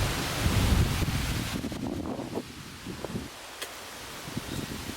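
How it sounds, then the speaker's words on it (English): Wind buffets a microphone outdoors beside water on a summer day, a loud low rumble that is strongest at the start and then eases into gentler gusts with faint rustling underneath. "Y'all, the wind is picking up. I'm sorry if it sounds bad on here."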